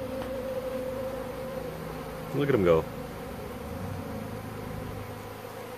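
A dense swarm of honeybees buzzing around an active backyard hive, a steady close drone throughout, with a brief spoken remark partway through.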